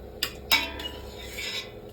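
Two sharp metallic clinks of spoons against a container, then a soft scraping rub, close by in a quiet room.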